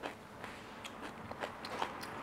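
Crunchy, spicy stuffed Ethiopian street food, a little oily, is bitten and chewed at a stall in Manchester, giving a few soft, close crunches and chewing sounds at low volume.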